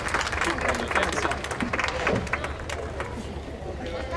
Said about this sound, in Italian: Applauso, grazie.